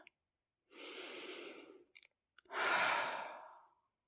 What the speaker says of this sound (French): Prends une grande inspiration. Puis une autre.